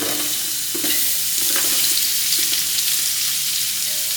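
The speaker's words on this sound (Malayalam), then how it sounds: "സൺഫ്ലവർ ഓയിൽ വെച്ച് കൊടുക്കുന്നുണ്ട്" Onions fry in sunflower oil as the masala for a beef biryani, giving a loud, steady, close-up sizzle with a few soft stirring clicks and no talking.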